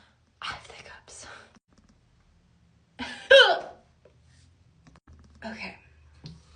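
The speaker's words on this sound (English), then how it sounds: "I have the hiccups." Close, quiet hiccups punctuate soft whispering at night, a few sharp catches spaced a couple of seconds apart between breathy words.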